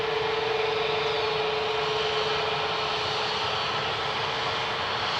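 A departing airplane roars steadily at an airport during early morning plane spotting, a loud, continuous broadband engine rush with a sustained tonal whine, no voices over it.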